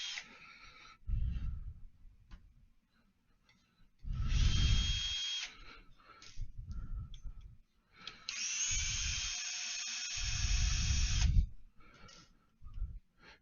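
A drill driver unscrews bolts on a vehicle's suspension in short bursts, several separate runs of a few seconds each with low rumbling in between, close and fairly quiet.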